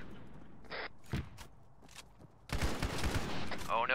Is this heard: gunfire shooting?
yes